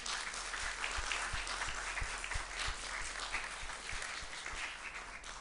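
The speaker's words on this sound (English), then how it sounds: "So I think they deserve a round of applause." A church congregation claps together in sustained, even applause, many hands blending into a dense wash heard from within the room, steady throughout before tapering slightly at the end.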